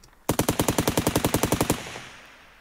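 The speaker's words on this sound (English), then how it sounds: "let's just play this machine gun here" A machine gun sound effect fires one sustained burst of about sixteen rapid, evenly spaced shots, loud and close, then cuts off into a short fading tail.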